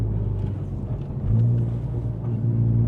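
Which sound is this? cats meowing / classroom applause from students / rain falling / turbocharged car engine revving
turbocharged car engine revving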